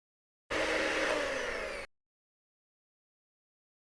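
An electric mixer whirs loudly for about a second and a half while beating vanilla chocolate chip cookie batter, starting abruptly and cutting off, with silence around it.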